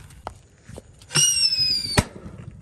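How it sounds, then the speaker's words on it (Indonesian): A sharp pop, then a whistling hiss, ending in a loud bang from a dark blue Happy Power 3 firecracker outdoors, with a few faint clicks in the quiet before. "Selanjutnya kita nyalakan ini kan Mercon Happy Power 3 warna biru tua guys."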